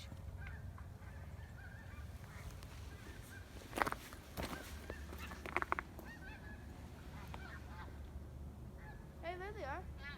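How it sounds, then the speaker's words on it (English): Geese honking as they fly north over a forest, a few faint scattered calls at a distance, with footsteps and quiet outdoor ambience around them. "There they go. Geese. Coming back home Coming north."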